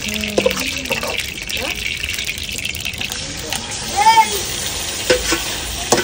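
Marinated meat for biryani is added to a pot over an outdoor homemade wood-fired stove and fries with a steady, close sizzle and stirring scrapes while people talk nearby.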